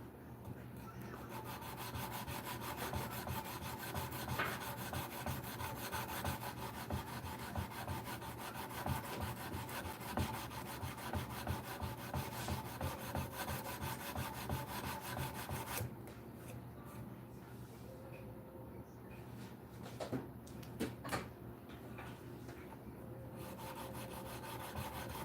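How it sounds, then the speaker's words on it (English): Hand sanding wood outdoors in freezing weather, a steady close scratchy rasp of paper on timber that runs almost without pause, with faint background music underneath. "I'm just sanding away something I could do inside where it's not freezing"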